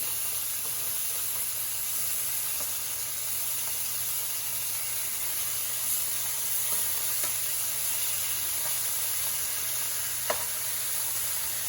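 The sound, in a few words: teriyaki beef steak rolls sizzling in a pan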